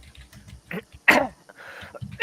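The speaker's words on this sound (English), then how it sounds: "I was just clearing my throat." A single sharp throat clearing, close and brief, rises out of a quiet room with faint murmuring and small background noises around it.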